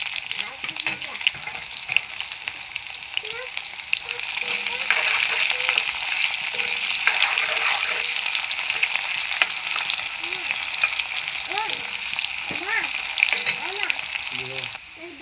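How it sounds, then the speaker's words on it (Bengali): Onions fry with a bay leaf in oil while they are stirred, during a dry chicken curry. A dense, continuous close sizzle runs throughout, with intermittent scrapes and faint vocal-like traces in the background. "দেখো পেঁয়াজটা ভাজা হয়ে গিয়েছে"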